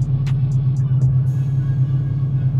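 LSX 454 Impala engine running on a dyno in second gear, a loud deep steady rumble with a few sharp clicks near the start and no speech.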